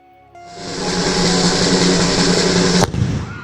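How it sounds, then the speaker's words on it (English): A cannon fired at an old, huge Cuban fort at the entrance to Havana during a cultural event, heard as a loud sustained broadband roar followed by a sharp crack near the end, with no talk. "we went to this great cultural event where they blow off a cannon in this old, huge Cuban fort"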